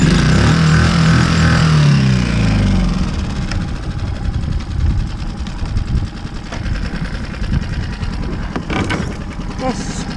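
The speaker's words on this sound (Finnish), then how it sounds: "Yritän ehkä eka ottaa moottorikin tästä käyntiin." An outboard boat motor on a fishing trip runs steadily at a mid-pitched drone after starting, close and loud for about ten seconds, with a few clicks and knocks toward the end.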